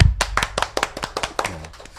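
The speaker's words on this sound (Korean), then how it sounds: "네 분께 우리가 다시 한번 박수 쳐드리겠습니다." A studio audience applauds four guests on a Korean radio-style broadcast about the Korean language, with a run of close, sharp hand claps in an uneven rhythm, plus a brief low voice near the end.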